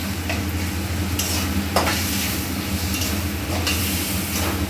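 Tomatoes and peas stirred in a frying pan with salt, a steady loud sizzle with a spatula scraping through it in a few sweeps, no talking.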